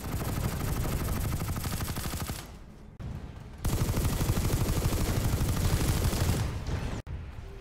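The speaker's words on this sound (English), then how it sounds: "I'm just going to show you some footage now of what the gun sounds like, suppressed, unsuppressed, and with a compensator" Eridani SX5 submachine gun firing in Planetside 2, in long rapid automatic bursts close up, with brief pauses between strings of shots and a tail of echo.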